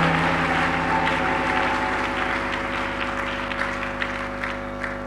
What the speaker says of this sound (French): On n'a pas bien acclamé, je mets qu'on l'acclame très fort.